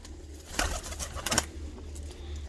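Botosani pigeons, a breeding pair shown in a loft, coo softly amid faint background noise, with a couple of brief louder bursts partway through.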